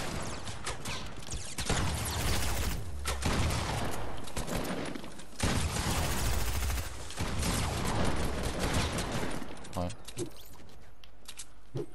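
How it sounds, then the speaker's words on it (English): Shotgun blasts in the video game Fortnite, heard as loud, sharp booming bursts over a busy, dense mix of other gunfire and game noise, with voices talking throughout. "Shotgun there."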